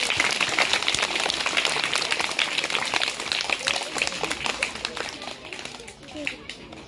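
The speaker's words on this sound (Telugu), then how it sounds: "మరి అంత ఒక్కసారి క్లాప్స్ కొట్టాలా?" Schoolchildren in an audience at a school magic show clap together in a dense, continuous burst with voices mixed in, fairly loud and close, easing off slightly toward the end.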